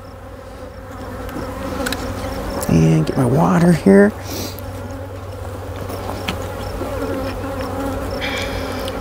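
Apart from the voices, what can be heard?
honey bees buzzing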